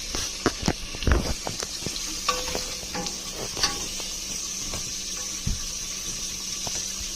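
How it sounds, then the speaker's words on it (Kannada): Sliced onions fry in oil for a soya chunks and green peas curry, a steady close sizzle with scattered clicks, taps and stirring scrapes, loudest in the first seconds, with no voices. "ಈರುಳ್ಳಿಯನ್ನ ಗೋಲ್ಡನ್ ಕಲರ್ ಬರೋವರೆಗೂ ಫ್ರೈ ಮಾಡಬೇಕು"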